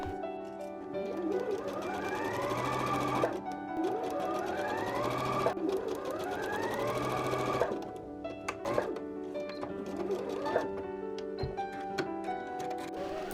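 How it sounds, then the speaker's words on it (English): Sewing machine stitching a satin ribbon bow onto a shirt, running steadily at close range with rising and falling motor whirs in bursts, a faint ticking mechanical rhythm throughout and no talking. "working around the edges of the bow and then sewing down the inside edges"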